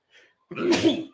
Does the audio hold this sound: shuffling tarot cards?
no